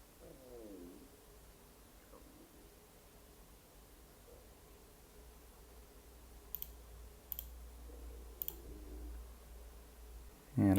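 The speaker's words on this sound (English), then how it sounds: "just double-click this JetBrains Toolbox icon" A computer mouse clicked quickly in pairs, three crisp double-clicks close to the mic over a faint hum in a quiet room, with no talking.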